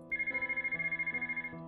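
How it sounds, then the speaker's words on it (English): A phone rings in the visual novel Connected Hearts, a synthetic electronic ringtone pulsing in rapid even bursts, about a dozen in a row, clear and alone with no talk. "I hear the phone ringing"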